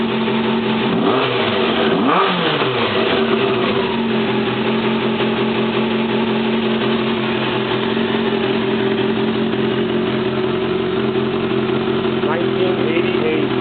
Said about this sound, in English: Honda CBR600 Hurricane.